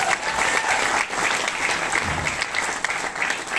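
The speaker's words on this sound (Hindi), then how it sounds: "ताली बजाओ इनके लिए" An audience at a meeting bursts into dense, steady applause, many hands clapping at once for a few seconds with no voices standing out.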